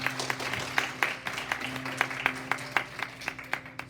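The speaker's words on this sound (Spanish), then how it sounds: "Denle un aplauso al Señor" A church congregation clapping steadily in a room, moderately loud, the claps falling into a loose rhythm with a low hum underneath.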